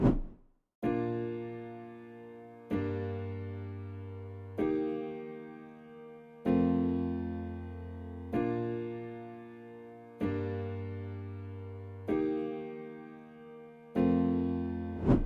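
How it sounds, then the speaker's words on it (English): A layered piano, one layer from Labs and one from FL Studio's Flex, plays a chord progression in FL Studio, with eight struck chords at even intervals, each ringing and slowly fading before the next. "For the piano, I have used two layers, one from the labs and other from the flex"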